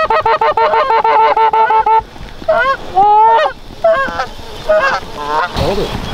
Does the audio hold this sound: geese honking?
yes